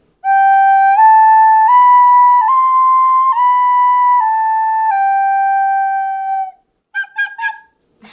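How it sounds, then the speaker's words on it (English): A plastic recorder plays a slow, clear melody of sustained, pure whistling notes stepping up and down, loud and close, then trails off into a few short separate tones at the end. "this is my recorder playing"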